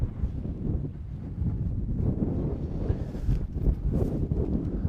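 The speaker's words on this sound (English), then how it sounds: "you can hear the wind blowing. It's almost taking my hat." Strong wind buffets the microphone in a constant low roar with gusty surges, no voices heard, outdoors at a 50-meter air rifle range.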